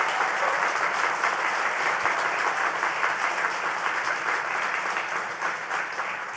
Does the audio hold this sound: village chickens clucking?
no